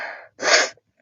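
A single close, sharp human sneeze, preceded by a quick inhaled gasp and followed by a brief breath, loud and alone with no talk.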